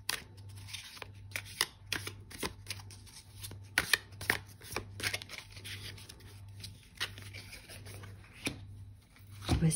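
Tarot cards shuffled and laid out by hand: a run of quick, crisp papery riffles and slaps in irregular bursts, close and fairly soft, over a low steady hum with no talking.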